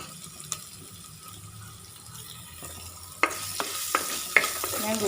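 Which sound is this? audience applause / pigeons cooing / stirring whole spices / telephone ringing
stirring whole spices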